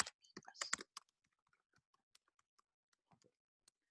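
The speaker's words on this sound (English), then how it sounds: "let me type in here." Typing on a computer keyboard: a quick burst of clustered key clicks, then sparse, isolated taps spaced out over several seconds, close and fairly quiet.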